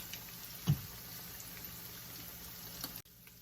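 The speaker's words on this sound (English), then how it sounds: "So we're going to let this here go ahead on and fry on up." Shrimp gizzard rice croquettes fry in oil with a faint, steady bubbling hiss and one sharp pop near the start, until the sound cuts off abruptly.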